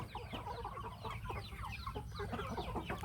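Five-month-old Burmese chickens, a young flock kept in a backyard pen, cluck steadily and overlap in a busy, close chorus with no talk over them.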